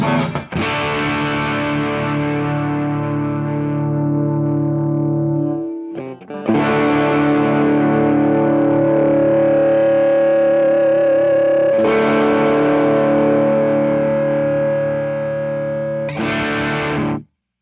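Heavily distorted electric guitar through a SLOstortion pedal with mids boosted rings out in sustained chords, three long strums let ring with a thick midrange, loud and close.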